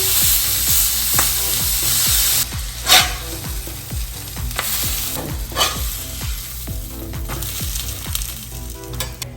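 Smash taco meat sizzles loudly in a pan over medium-high heat, a steady frying hiss with repeated scraping clicks and taps of a spatula turning the tacos meat side down.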